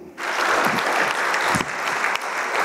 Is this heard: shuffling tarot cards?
no